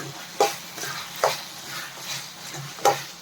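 Soya chunks Manchurian fries in a pan under a steady hiss, with a spatula scraping and tapping the pan every second or so and three louder clacks standing out; no speech.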